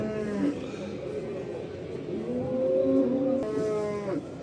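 Cattle low with several long moos at a busy livestock market, rising and falling calls close by, with crowd noise beneath.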